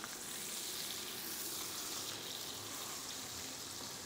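Meat fries in a pan, a steady, close hiss of sizzling fat that stays even and continuous with no break.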